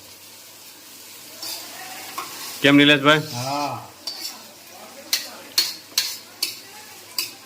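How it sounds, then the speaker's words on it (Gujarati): Cut capsicum, cabbage and carrot stir-fry in a cumin tempering for pulao with a steady sizzle. Brief talk between two people comes partway through, then a run of regular spoon or pan knocks follows. "હવે પેપ્સિકમ, કોબી અને ગાજરનું કટિંગ જે આપણે કટિંગ કર્યું હતું તે પુલાવમાં એમાં વઘાર કરવાનો"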